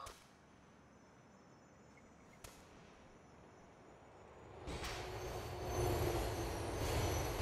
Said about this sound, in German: Fährt irgendwie die U-Bahn oder?